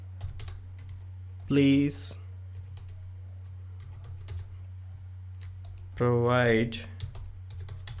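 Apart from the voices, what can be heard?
typing on a computer keyboard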